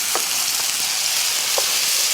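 A seasoning sauce sizzles hard in a hot pan during a spicy tuna stir-fry, a loud continuous hiss lasting throughout with a few faint clicks underneath.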